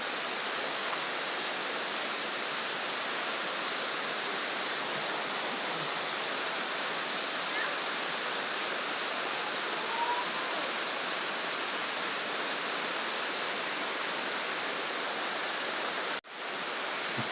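Tat Mok waterfall in Phetchabun, Thailand, roaring as a steady, dense broadband wash of falling water, heard close and loud without any talking.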